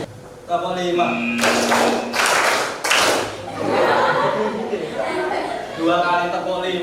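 A group in a clapping game claps in three short, dense bursts of many hands together, loud and close, between stretches of voices talking.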